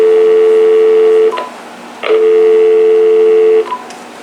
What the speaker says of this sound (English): let's go ahead and check out the flash button on the speakerphone